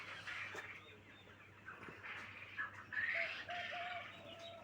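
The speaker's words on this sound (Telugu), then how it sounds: "కౌజు పెట్టలను క్వెయిల్ బర్డ్ అంటారు ఇంగ్లీష్లో." Quail birds call on a quail farm, a faint scatter of clucking chirps rising and falling over low background noise, with a few brief louder calls toward the end.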